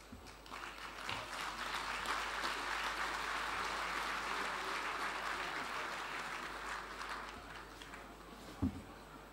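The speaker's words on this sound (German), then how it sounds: "Das war jetzt eigentlich keine Klatschpause" Audience applause breaking out during a hospitality industry speech in Bavaria, a steady mid-level clapping from a crowd lasting several seconds before tapering off, with one sharp knock near the end.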